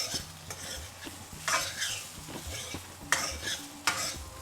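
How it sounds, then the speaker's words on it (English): Rice sizzles in hot turmeric-infused oil while being stirred, with soft frying crackle and irregular scraping strokes of a utensil in the pan, close and moderately quiet. "throw in the rice. That's perfect, nice sizzle there"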